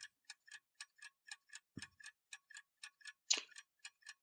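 A clock-ticking timer sound effect: crisp, evenly spaced ticks at about four per second, clear and close, with a brief low thump and a sharper click partway through.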